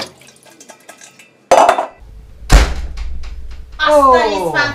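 Dishes and pots clatter and clink as they are washed and stacked away in a home kitchen early in the morning, with a few sharp knocks and a bang between bursts, while voices speak nearby.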